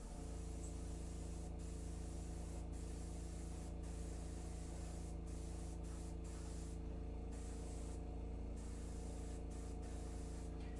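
An airbrush sprays thinned paint, mixed at a little under one-to-one with thinner, over a miniature figure: a continuous close hiss with several brief gaps where the trigger is released, over a low steady hum.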